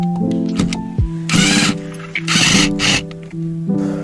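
An impact wrench tightens hose clamps during a camper van conversion, firing in several short, loud hammering bursts close up, with brief pauses and small clanks of metal between them.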